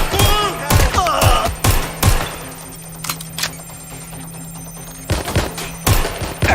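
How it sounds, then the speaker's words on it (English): Gunfire rings out in the video game Watch Dogs Legion as loud, sharp bursts and rapid volleys, with a lull in the middle before more shots, over a steady low hum. "They're shooting at us! They're shooting!"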